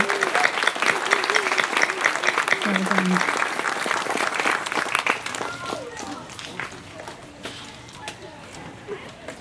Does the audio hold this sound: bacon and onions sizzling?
no